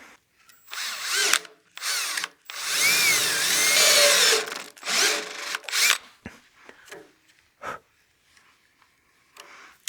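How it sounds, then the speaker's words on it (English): A barrel trimmer taking light cuts on a pen blank spinning on a wood lathe: several loud bursts of whirring, scraping cutting noise with short pauses between them, then quieter scattered taps and clicks. "I want to take really light cuts on this as we barrel trim."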